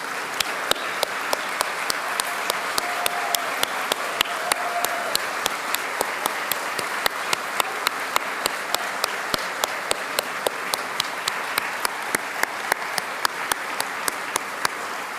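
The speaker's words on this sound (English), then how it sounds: "I'd like to ask all the local women here with us this morning to please stand up so we could give you the round of applause that you deserve" A large audience at a women's awards ceremony applauds local women asked to stand, steady dense clapping throughout with a few sharper claps standing out, no speech.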